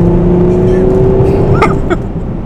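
Mercedes-AMG car engine, about 450 horsepower, running with a steady loud drone and a couple of sharp revving blips near the end, heard close up.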